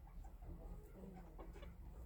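Bantam chickens clucking in a winter coop with hay, soft intermittent clucks and small calls from a few birds close by, quiet and scattered over a low background.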